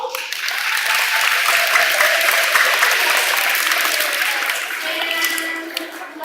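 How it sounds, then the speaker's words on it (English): Children and staff at a school assembly clap together in a sustained, even burst of applause that fills the hall, holding steady for several seconds before tapering off at the end. "Let's have a big round of applause for everybody involved."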